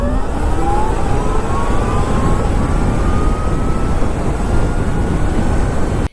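An Ultraviolette F77 Recon electric motorcycle accelerates hard from a standstill, its motor whine rising in pitch over loud rushing wind and road noise before cutting off abruptly.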